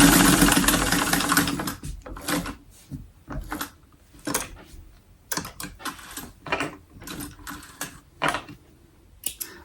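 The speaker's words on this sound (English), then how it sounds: "Do y'all have an old sewing machine like this?" An old Singer 99k sewing machine stitches in short, fast rattling bursts separated by pauses, loud and close, with a brief stretch of noise at the start and no voices.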